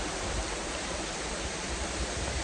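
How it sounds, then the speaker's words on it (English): A waterfall in Red River Gorge near Gray's Arch on a rainy hike, a steady, dense rushing roar of falling water with no breaks and no voices. "that cool waterfall"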